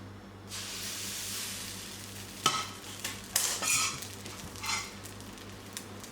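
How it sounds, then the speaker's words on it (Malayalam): Batter for palappam hisses in two appam pans, a soft steady sizzle punctuated by several short bursts of louder spitting and scraping, with a low steady hum underneath. "രണ്ട് അപ്പത്തിൻ്റെ ചട്ടി വെച്ച് കൊടുത്തിട്ടുണ്ട് കേട്ടോ. നമുക്ക് അപ്പം റെഡിയാക്കി എടുക്കാം."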